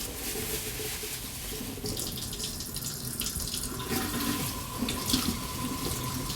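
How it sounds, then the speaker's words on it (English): A powerful kitchen faucet runs steadily on a low setting while raw chicken is washed under it, a continuous splashing stream filling the sink, close and fairly loud with no talking. "the faucet here is really powerful, so I have to go low setting, otherwise it'll splash on me"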